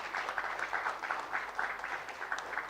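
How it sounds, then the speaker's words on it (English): A conference audience applauds at a women-in-leadership session, with steady, moderately distant clapping rising and falling in soft waves. "Please give yourselves a huge round of applause."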